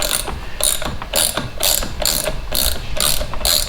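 A Quest trolling motor is turned by hand, its mechanism giving a loud, close ratcheting of rapid clicks in regular bursts, about eight evenly spaced pulses in a few seconds, with no talk.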